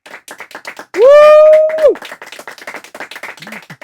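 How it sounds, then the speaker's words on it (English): An audience claps for a theater cast in rapid, close, scattered hand claps, broken by a loud whoop from one person partway through. "If you could give a round of applause to our wonderful cast."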